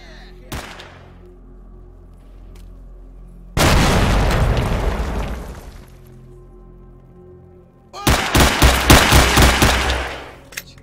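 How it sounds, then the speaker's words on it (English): Video-game combat in S.T.A.L.K.E.R. Shadow of Chernobyl: a short bang, then a loud grenade explosion rumbling for about two seconds, followed by a rapid burst of gunfire with distinct repeated shots, all without talk. "Throw the grenade."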